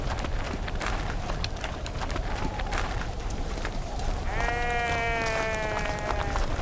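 Sheep bleat amid busy outdoor commotion: a clear, fairly close bleat rises in the last couple of seconds over scattered thuds and shuffling noise.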